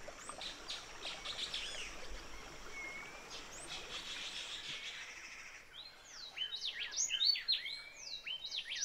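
Birds call and chirp by the Huatulco River in the rainforest, a soft trickle of flowing water underneath and sharp, rapid chirps growing louder and busier in the second half.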